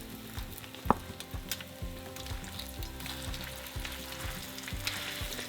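A salmon fritter, cooked like a pancake, sizzles steadily in a frying pan, a close, continuous crackle and hiss with small pops and no voices.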